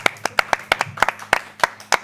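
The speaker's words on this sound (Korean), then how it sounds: "우리 카메라 감독님이 제일 먼저 박수를 치셔가지고" A camera director claps in a television studio: about a dozen quick, sharp hand claps in a steady, even rhythm, close and clear with nothing else over them.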